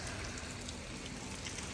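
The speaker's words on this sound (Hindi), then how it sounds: "और यहाँ आके बारिश हो रही है" Steady rain falls in Solan, a dense, even hiss of drops with no pauses or voices, moderately quiet and continuous throughout.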